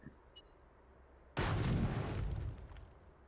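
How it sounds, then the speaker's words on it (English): Dynamite detonates in the video game Astroneer as a single loud, booming blast that hits suddenly after a quiet lull, rumbles heavily for about a second, then tails off into a fading crackle. "You take a dynamite, and you detonate it."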